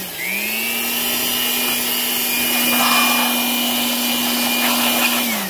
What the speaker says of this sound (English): It's also the difference in drying a coated car and a non-coated car with a blow-drying device.